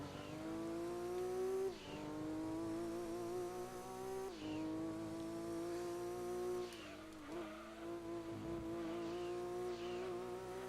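Racing car engine from the Gran Turismo 2 video game, a steady loud droning whine that climbs in pitch, dips sharply as the car brakes or shifts, then climbs again, with no talk.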